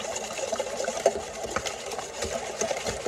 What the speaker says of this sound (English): we are going to just whisk these together.